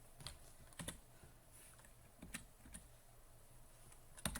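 Sparse, faint keystrokes on a computer keyboard, a handful of separate clicks with quiet pauses between them, heard close and alone.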